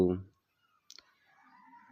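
A computer mouse clicks a link: a quick double click, brief and close, following a moment of speech and before faint background hum.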